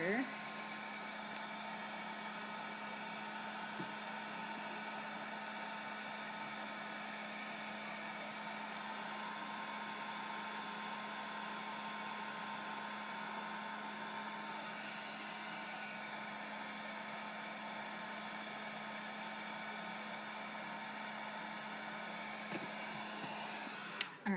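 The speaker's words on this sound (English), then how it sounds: "if you run your heat gun down the big blobs, they go down a little bit further" A heat gun blowing steadily over blobs of resin on a craft journal: a constant, fairly quiet whooshing roar with an even motor hum that never changes, ending in a small click.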